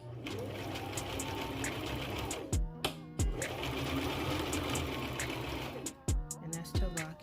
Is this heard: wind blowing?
no